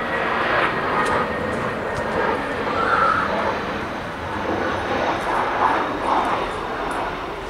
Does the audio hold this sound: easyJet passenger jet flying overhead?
yes